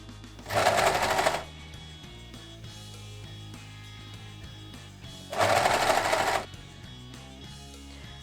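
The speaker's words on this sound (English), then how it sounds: "Insert your sleeve on your cuff and sew the edges, stretching the cuff fabric slightly if necessary." Sewing machine stitching a sweatshirt sleeve onto its cuff, two short bursts of rapid mechanical whirring about five seconds apart, each lasting under a second, over quiet background music.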